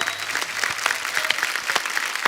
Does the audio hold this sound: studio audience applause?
yes